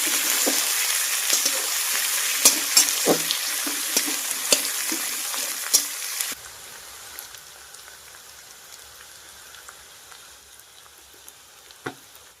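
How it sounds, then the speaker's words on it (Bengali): Sliced onions sizzling and crackling in hot oil in a pan for chicken ghugni, with intermittent stirring knocks from a spoon; the frying hiss drops noticeably quieter halfway through and continues softly. "আবার পেঁয়াজটাকে একটু ভালো করে নাড়িয়ে নিতে হবে।"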